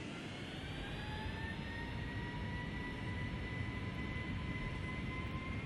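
Boeing 757 jet engines spool up for takeoff in a flight simulator, a loud, steady roar with rising whines that climb gradually and hold throughout, with no voices.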